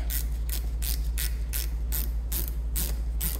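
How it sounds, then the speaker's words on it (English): Ratchet wrench undoing the lower brake caliper bolt at the rear wheel of an Alfa Romeo Giulietta, about nine evenly spaced clicking strokes over a low steady hum, close and fairly quiet. "Take this lower bolt all the way out."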